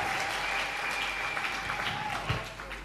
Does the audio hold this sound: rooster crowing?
no